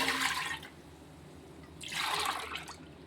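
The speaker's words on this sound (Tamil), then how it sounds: "3 டம்ளர் தண்ணி ஊற்றிக்கிறோம்." Water pours into a pressure cooker holding one tumbler of pearl millet (kambu) rice, two hissing splashing bursts near the start and end with a quiet pause between, close up with no talking.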